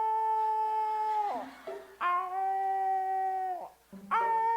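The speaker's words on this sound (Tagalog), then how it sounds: "Nalungkot ang aso, kaya nag-alulong." A sad dog howling on a Philippine TV variety show, three long sustained tonal howls that dip and waver at the ends, loud and close with short gaps between them.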